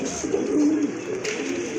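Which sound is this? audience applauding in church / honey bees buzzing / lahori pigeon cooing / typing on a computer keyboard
lahori pigeon cooing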